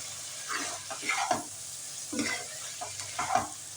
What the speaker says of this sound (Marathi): छान मिक्स करून घेऊया